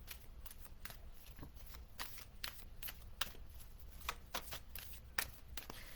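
Oracle cards being shuffled by hand, a steady stream of soft papery riffles and flicks with sharper slaps now and then, close and fairly quiet.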